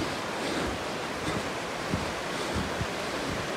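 A village stream flows near a fountain and a forest footbridge, giving a steady broadband rush of water with wind buffeting the microphone and no voices.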